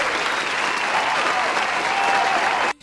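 Applause from a crowd, steady dense clapping for close to three seconds before stopping abruptly, used as a sound effect in talk about online Smash tournaments.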